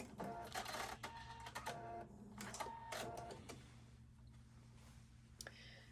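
A sewing machine runs in short bursts, back tacking at the end of a Hawaiian shirt seam, its rapid mechanical stitching chatter close and quiet with brief pauses between runs.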